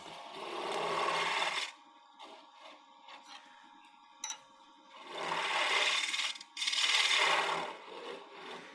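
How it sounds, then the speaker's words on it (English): A small negative-rake scraper cuts into the middle of a turned wooden box on a wood lathe, giving two long, steady, rasping scrapes separated by quieter spinning and brief tool contacts. "small negative rake scraper like this, just so I can deal with just the part in the middle"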